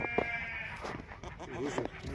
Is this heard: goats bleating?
yes